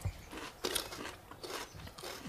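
Teeth bite into crunchy cooked Chinese artichokes close to the mic, a series of about four sharp crisp crunches spaced roughly half a second apart, fairly quiet with no talking.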